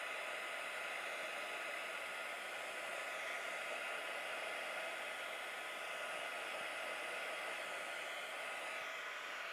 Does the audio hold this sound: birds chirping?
no